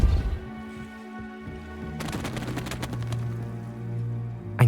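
A Depulso spell cast in the Hogwarts Legacy video game: a sudden crash-like magical burst with a broadband whoosh over a sustained game music bed, followed by a fading tail and another sharp hit at the end.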